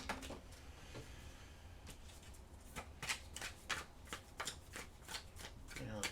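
Tarot cards being shuffled close up, a run of quick riffling bursts in an irregular rhythm growing busier toward the end, fairly quiet.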